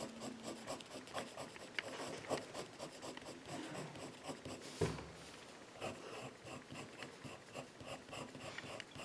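A pencil drawing lines on paper, with soft scratchy strokes that come in repeated short bursts, faint and close.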